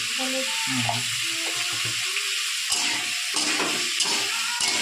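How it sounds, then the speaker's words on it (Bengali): Potatoes frying with salt and turmeric in a home kitchen give a steady, close sizzling hiss throughout, with occasional stirring clatter and faint talk in the background. "কি হচ্ছে আলুটা ভাজা হবে"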